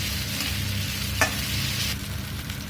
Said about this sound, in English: So while I saute my onion